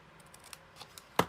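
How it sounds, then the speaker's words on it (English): A single crisp snip of scissors cutting card along a score line, following faint rustling and small handling sounds. "we're going to make a cut on just one of the score lines on each corner"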